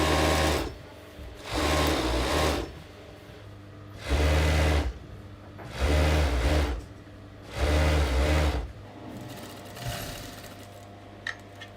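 A sewing machine stitching suit seams in a Savile Row tailoring workshop runs in five steady bursts of about a second each, separated by short pauses, close and loud, with no voices.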